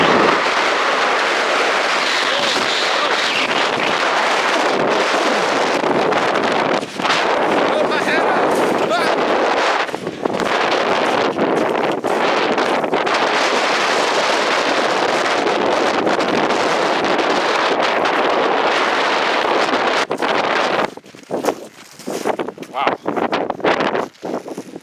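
Strong, gusting wind buffets the microphone with a loud, continuous broadband roar on a lava flow at Craters of the Moon, dropping and becoming patchy near the end.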